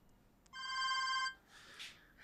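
A telephone bell rings once in a short, bright electronic burst, followed by quiet room sound and a faint rustle.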